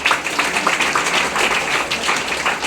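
Applause from an audience at a product promotion event: a dense, continuous patter of many hands clapping at steady loudness throughout, with no voice over it.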